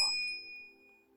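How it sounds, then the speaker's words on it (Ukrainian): A single bright notification bell ding struck once, ringing clearly and fading over about a second, with nothing else around it. "Активований вами дзвіночок активує сповіщення про всі наші відео."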